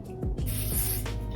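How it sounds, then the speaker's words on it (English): Hair spray sprayed onto the lace of a wig, a close hissing burst that starts partway in and holds steady for about a second before tapering off, with faint handling noises before it. "Take my even spray, and then I'm gonna spray this"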